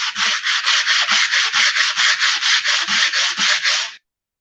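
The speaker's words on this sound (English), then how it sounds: "So this is a 60 grit. And technique for sanding" Rapid rhythmic scratching of 60-grit sandpaper rubbed back and forth on a wall, about twenty even strokes, close and loud, then stopping.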